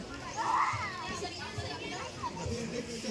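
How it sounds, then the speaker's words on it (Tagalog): Children play and bathe in the sea at a sunny beach, their scattered shouts and chatter carrying from a moderate distance over a constant outdoor wash, with a few voices rising above the rest. "May naliligo na ng mga bata."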